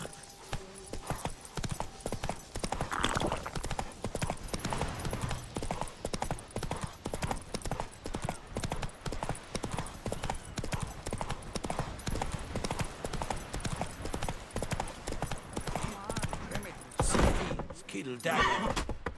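Horse hooves in The Witcher 3 game pound in a fast, steady galloping rhythm close by, with a brief burst of louder commotion near the end.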